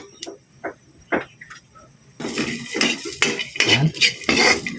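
Garlic sautéing in a pan for a shrimp and spinach dish: a few sharp utensil scrapes and taps at first, then a louder steady sizzle with repeated stirring strokes against the pan, close by, no talking.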